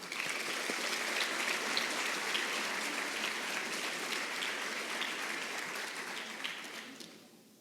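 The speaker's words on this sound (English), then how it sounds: "Please have a round of applause for Addison Cordova." Applause for a scholarship recipient at a high school assembly: a dense, rain-like wash of clapping from a large crowd, holding steady, then thinning and fading out near the end.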